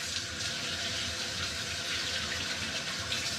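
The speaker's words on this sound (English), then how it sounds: "Just going to wash my hands." Tap water runs steadily into a kitchen sink during handwashing while pigeon burgers are being made, a continuous close hiss and splash with no talking.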